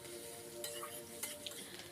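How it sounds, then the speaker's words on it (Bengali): Chopped onion being stirred in hot oil in a pan, a steady close sizzle with a few sharp clinks of the utensil against the pan. "আমি এখন পেঁয়াজটা গরম তেলের মধ্যে মানে নাড়াচাড়া করে নিচ্ছি"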